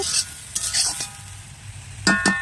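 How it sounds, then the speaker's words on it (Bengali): Cabbage curry with potato and onion stirred in a wok over a wood-fired stove, giving scattered scraping stir strokes over a faint sizzle, with a few clanks near the end. "কাঠের উনুনে রান্না হচ্ছে, দেখো কড়াইতে কি বাঁধাকপির ঘন্ট"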